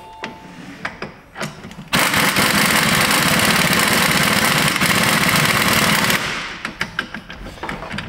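Impact wrench on its lowest torque setting lightly snugging wheel or brake bolts on a Toyota Sienna during a front brake job: one loud, sustained rattling hammer burst of about four seconds, with quieter clicks and clatter before and after.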